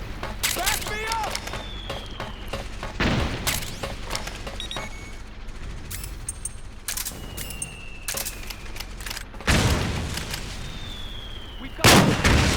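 Battlefield gunfire and heavy booming blasts in Metal Gear Solid 4 on PS3, with scattered close shots, a few large explosions and whistling projectiles, while soldiers shout over the fighting.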